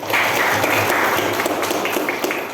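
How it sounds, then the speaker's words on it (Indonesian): Applause fills a classroom at the start of a vocational high school lesson, a steady wash of many hands clapping that continues at an even level for the whole stretch, with faint speech mixed beneath it. "Tepuk tangan."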